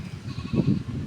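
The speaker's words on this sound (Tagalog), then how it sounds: "Sa mga kambing na yan" Goats bleating on a hillside farm, a couple of short nasal calls rising over low background rustle, moderately close and fairly faint.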